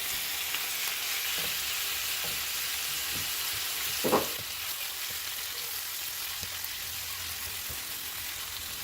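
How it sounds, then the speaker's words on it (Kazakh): Meat frying in hot oil for Kazakh maqluba gives a steady close sizzle with a louder crackling burst partway through, and no one speaks. "Ең алдымен етімізді қызып тұрған майда қуырып аламыз."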